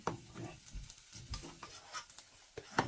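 Quiet stirring of corn and ham in a frying pan with leftover pasta, soft scraping strokes over a low sizzle, with a couple of sharper clinks near the end and no voices.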